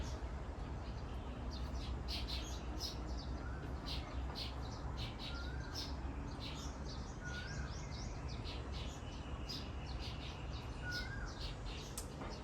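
Birds sing on a morning in Thailand, with faint scattered chirps and short whistled calls over a low steady rumble of traffic from a big road nearby.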